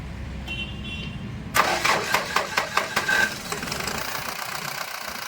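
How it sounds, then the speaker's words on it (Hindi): Mahindra Scorpio M2DI CR diesel engine cranking over, with a quick run of rhythmic starter pulses that catches into a steady idle, heard close up with a faint high tone before the start. "गाड़ी को हम स्टार्ट करते हैं। स्टार्ट करो।"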